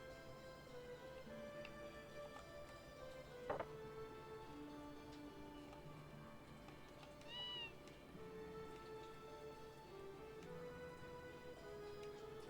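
Cats meow from the Tales of Phantasia game on PSX, heard as a few short cries over a steady backdrop of game music with faint ticking, one clearer rising meow partway through, no talking.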